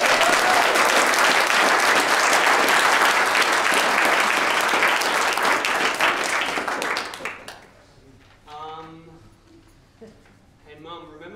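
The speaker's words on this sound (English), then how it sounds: "so another round of applause." Loud, sustained audience applause at a live performance fills most of the clip, then fades out, leaving quieter sounds and a voice speaking briefly at the end.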